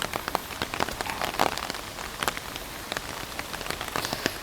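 Rain pattering steadily on surfaces in Tokyo, a dense hiss of droplets broken by sharper individual drips and taps, close and continuous with no one talking.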